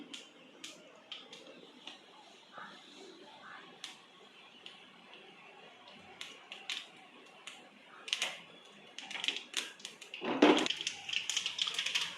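Mustard seeds sputtering in hot oil for a cabbage poriyal, sharp irregular pops and crackles scattered throughout, growing denser toward the end.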